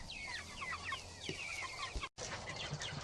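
Chickens in movable chicken tractors on a farm cluck softly and continuously, a faint, scattered outdoor chatter with no one talking.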